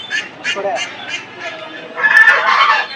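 Several chickens, including capons, cluck and squawk in short bursts at a poultry market in Dhara Bazar, Haluaghat, with a busier flurry of bird calls toward the end over a faint background murmur.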